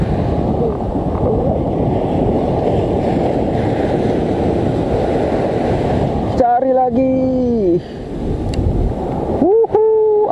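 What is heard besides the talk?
strong wind at the sea shore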